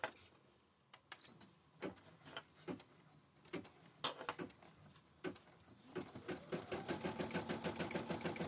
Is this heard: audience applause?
no